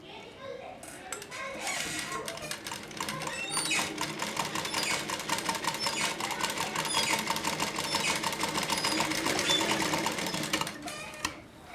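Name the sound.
sewing machine stitching fabric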